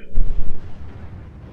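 Explosion in Metroid Prime after a boss fight: a loud, deep rumbling blast that booms and then slowly fades out over about a second and a half, with no talking.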